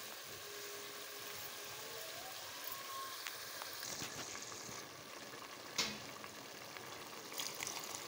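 Chicken, spices and chickpeas fry in a pan with a steady soft crackling sizzle, fairly quiet, broken by a few faint clinks and taps of a utensil.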